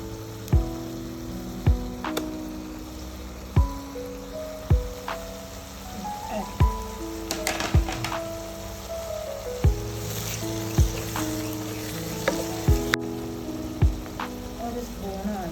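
Ginger, garlic and green chilli paste frying in a pan for chicken dum biryani, with a steady sizzle under sharp repeated clicks and scrapes from a utensil and a faint tonal hum in the background.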